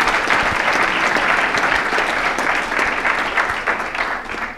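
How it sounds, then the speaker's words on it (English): Sustained applause fills a bowling awards dinner, a dense crowd clapping steadily for nearly five seconds before easing slightly at the end. "let's give her a round of applause"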